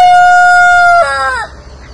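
Young heritage barred rock rooster about three months old crowing close and loud, one sustained steady call that breaks into a wavering, falling end, no talk over it.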